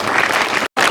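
An audience claps to welcome the district SP visiting the Sri Valmiki hostel in Jagtial. A short, dense burst of applause breaks off for a moment before it resumes.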